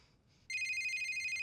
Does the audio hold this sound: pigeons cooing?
no